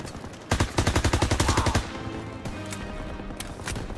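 Machine gun fire in Call of Duty: WWII during the D-Day campaign: a loud, rapid rhythmic burst of about a dozen shots from a mounted MG, followed by quieter scattered battlefield noise.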